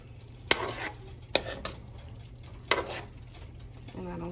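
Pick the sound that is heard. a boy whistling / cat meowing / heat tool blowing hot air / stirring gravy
stirring gravy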